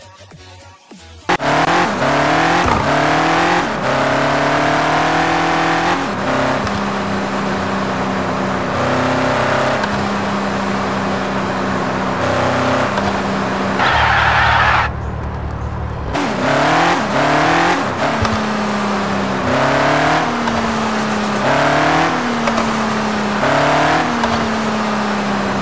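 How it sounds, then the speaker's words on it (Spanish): A modified car engine in the game Car Parking Multiplayer revs hard again and again, its pitch climbing and dropping in repeated sweeps, loud and close with a brief lull midway. "No me gustó para nada este motor como se escucha"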